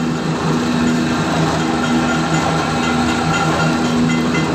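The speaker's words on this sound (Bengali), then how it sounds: "মেশিনটা চলতেছে" Mustard oil expeller machine running steadily, a loud, constant mechanical drone with a faint high whine and no change across the span, no one speaking.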